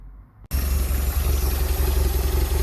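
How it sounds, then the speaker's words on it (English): After a brief quiet moment, a Porsche 924 engine under fault-finding starts up and runs steadily with a loud, low, even rumble. "Okay, so the engine is running"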